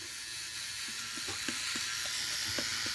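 A synthetic badger shave brush swirls lather, producing a soft, continuous wet hiss with faint rhythmic squelching strokes, close to the microphone and without any talking.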